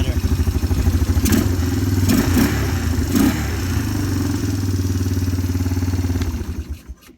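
A small engine, just after a valve adjustment, runs steadily at a rough, chugging idle, loud and close, with a few clattering bursts before it cuts off near the end.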